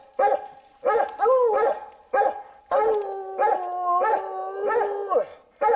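Hunting hounds bay and howl at a lion treed during a hunt, several dogs calling in overlapping bursts, long drawn-out howls mixed with sharper barks, loud and fairly close.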